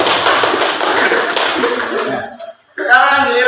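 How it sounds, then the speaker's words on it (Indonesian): A small group in a classroom session claps for group 3, a loud, close burst of quick hand claps that runs for a couple of seconds, drops briefly to near silence, then gives way to a voice speaking. "Tepuk tangan untuk kelompok 3."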